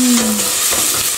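Spices tipped into a hot pan with half-wilted onions and stirred, a brief scrape and clatter followed by a steady, close sizzle of frying with no talking.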